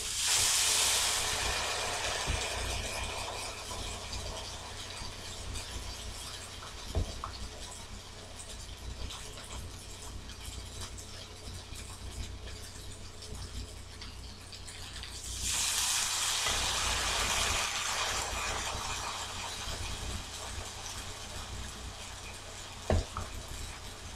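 Vegan French toast, soaked bread laid in a hot pan, giving a loud hissing sizzle that flares at the start, settles into a steady fry, then surges again midway, with a couple of faint clicks and no speech.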